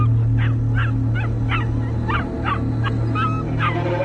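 Frightened dogs cowering in a narrow space beneath a lodge give a rapid series of high, wavering whimpers and yelps, about nine close cries in quick rhythm over a constant low hum.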